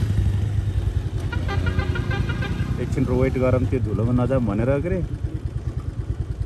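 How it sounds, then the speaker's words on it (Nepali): A motorcycle rides along a dusty, unpaved road under construction in rural Lamjung, Nepal, its low engine drone running steadily beneath continuous nearby conversation. "त्यो बाइकले धुलो खाँदै जाने हो"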